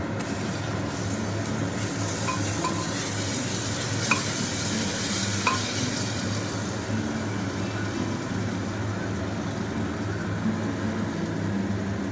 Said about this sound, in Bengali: পেঁয়াজটা ভাজা হয়ে গেছে ব্রাউন কালার, সেখানে আমি এবার পেস্টগুলো দিয়ে দেবো।